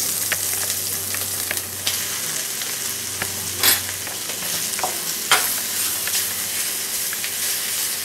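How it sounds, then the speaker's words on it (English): Beef sautés in olive oil in a pan, making a steady near sizzle while a utensil scrapes and stirs in irregular strokes, with a couple of louder clanks along the way. "And we're going to saute the meat a little bit."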